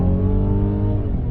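A 2021 Mercedes-Benz E 350 sedan accelerates onto a freeway in Sport Plus mode, engine note steady and loud with climbing harmonics, heard from inside with no talk.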